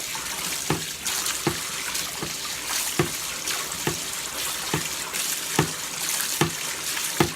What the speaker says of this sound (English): while holding it under the water, I'm going to use it to scrape the dry paint off the bristles